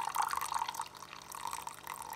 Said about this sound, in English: And now, I'm gonna put some water,